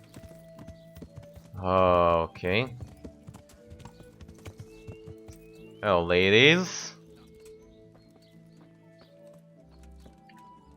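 Horse hooves clip-clop steadily in the video game Kingdom Come Deliverance, a soft, continuous patter running beneath brief bursts of in-game voices.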